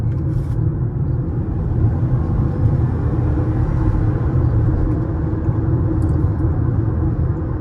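A 2020 Toyota RAV4 Hybrid running in sport mode with its engine always on, heard as a steady low rumbling drone that stays even and continuous, with no talking.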